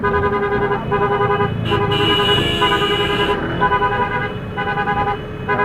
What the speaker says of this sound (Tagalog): Natagtag na tayo ng busina sa likod.